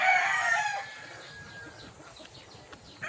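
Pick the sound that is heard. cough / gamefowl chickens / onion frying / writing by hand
gamefowl chickens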